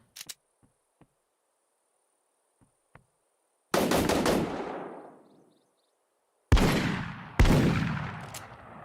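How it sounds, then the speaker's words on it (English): Three heavy shotgun blasts go off in the Grit Wild West battle royale game, a lone boom followed by two close together, each loud and close with a long fading tail, plus a few faint clicks before them. "It's a shotgun."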